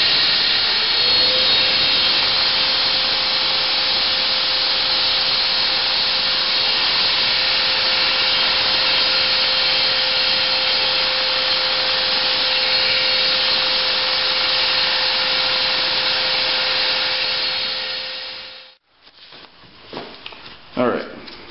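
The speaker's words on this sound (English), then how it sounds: "So we're gonna take it to the sander here, and we're going to even out the edges." A power sander grinds the edges of a leather knife sheath, a loud continuous whine and rasp lasting nearly twenty seconds before spinning down abruptly, followed by a few faint handling noises.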